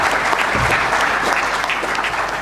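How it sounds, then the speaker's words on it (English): An audience at a debate panel gives sustained, loud applause, dense clapping from a crowd that carries steadily for the whole stretch before tapering slightly. "So a big round of applause for our panelists on the right side and left side."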